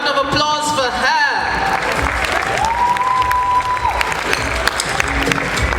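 A gala audience breaks into applause mixed with cheering and whoops, a dense, lively roar of clapping that continues throughout, with music or voices tonal over it.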